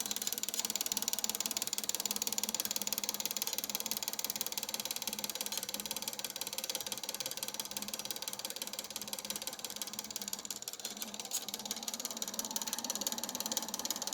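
A Draksler string pulse motor runs with a continuous, fast mechanical ratcheting clatter, steady and close, with no voices.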